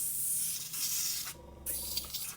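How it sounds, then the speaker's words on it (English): An airbrush sprays out cleaning fluid in a steady, hissing jet that breaks off briefly then resumes, close and soft, with no one talking. "Then spray out the cleaner."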